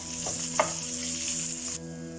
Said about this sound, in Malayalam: ഇതിലേക്ക് നമുക്ക് സവാള ചെറുതായി അരിഞ്ഞ് വെച്ചത് ഇട്ട് കൊടുക്കാം